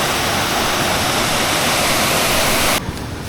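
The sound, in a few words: roaring wild waterfall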